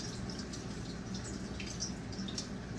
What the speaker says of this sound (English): A steady water flow in your rice colander is everything.